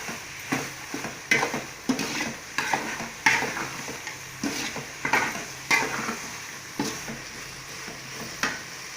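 Kudal varuval, goat intestine fried with coriander, being stirred in a pan, with a spoon scraping and knocking the metal at a steady rhythm every second or so over a soft, continuous sizzle.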